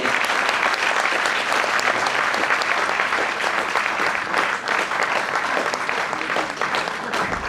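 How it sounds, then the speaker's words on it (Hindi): A seminar crowd in Delhi breaks into loud, sustained applause welcoming a speaker to the stage, a dense, even roar of many hands that runs unbroken throughout. "जोरदार तालियों से स्वागत है।"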